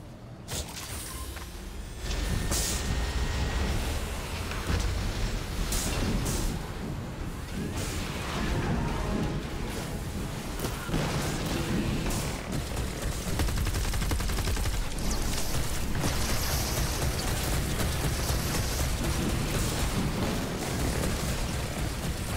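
Sustained heavy gunfire and explosive bursts from mortars in Fortnite Save the World, a dense, continuous barrage with rumbling blasts layered throughout, loud and steady from start to finish.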